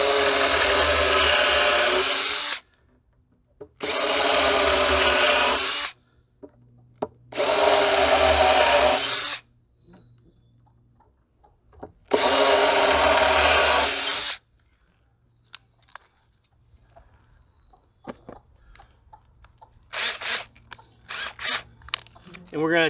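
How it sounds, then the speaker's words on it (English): A power drill with a countersink bit boring countersinks into wood for a raised garden bed, four loud whirring bursts of a few seconds each separated by pauses, followed by lighter handling knocks. "I have just a drill bit with a countersink bit attached as well."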